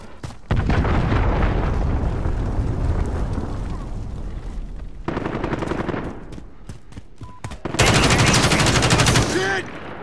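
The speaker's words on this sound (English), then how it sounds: "Allied cruise missile away." In Call of Duty Modern Warfare, a cruise missile strike sets off heavy explosions. Dense bursts of booms and rapid gunfire-like blasts come in several loud waves, separated by short quieter gaps.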